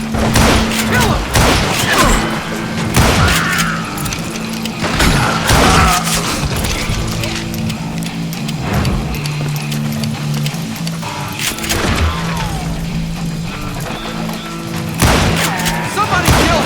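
Western-style gunfire from Call of Juarez: Gunslinger, with dense volleys of pistol and rifle shots and crashes over a music bed, while characters shout and a narrator talks.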